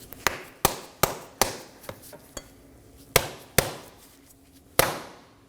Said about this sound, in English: strike the outer axle shaft with a rubber mallet